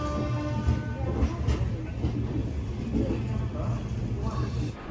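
The Kolkata Jammu Tawi Express pulls out of an Indian railway station, its wheels rumbling and clattering steadily over the rails in a loud, continuous roar with station noise.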